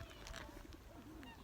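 Birds coo faintly by a pond in Inverleith Park, soft low calls in a distant, quiet park ambience with a few light chirps and rustles.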